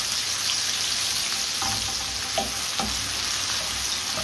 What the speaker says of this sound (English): Let's start by frying one medium onion, finely sliced.